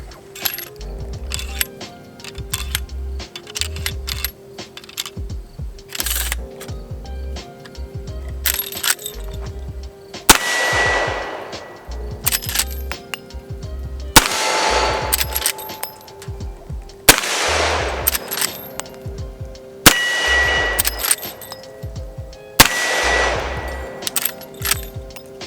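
A Henry .45 Colt Mare's Leg lever-action is loaded, cartridges clicking and clinking into the tube, then fired in several loud, sharp, echoing shots spaced a few seconds apart, with lever clacks between them.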